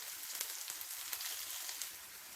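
Eggplant (kathirikka) slices shallow frying in hot oil, a steady close sizzle with scattered small pops and crackles, no voices.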